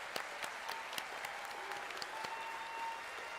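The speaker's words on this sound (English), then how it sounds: "please give your friends and family and loved ones a round of applause" Graduation audience at a technical college ceremony applauds, faint, scattered claps from a distant crowd in a large space, steady and light throughout.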